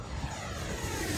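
An FMS BAE Hawk RC jet with a weakening battery passes at full throttle, giving a steady, moderately loud electric ducted-fan whoosh with no voices.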